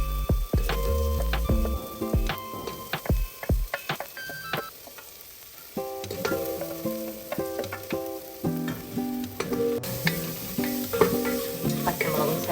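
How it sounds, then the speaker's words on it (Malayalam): Garlic and green chillies sautéing in a pressure cooker, a continuous sizzle and fry with frequent scraping, stirring clatter against the metal pot, close and fairly loud. "പച്ചമുളകും ചേർത്ത് നമുക്ക് വഴറ്റും"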